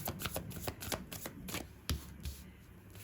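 Tarot cards being shuffled by hand in a string of quick riffled flutters and soft slaps, fairly close and alone, with one sharper knock near the end.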